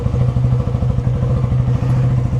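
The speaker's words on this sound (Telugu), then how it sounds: "అసలు ఒకసారి సైలెన్సర్ లేకుండా దీని సౌండ్ నేను చూడండి ఎంత గట్టిగా వస్తుందో." Loud, close idle of a motorcycle running without a silencer: a continuous fast-pulsing exhaust beat with a faint clattery edge, no speech.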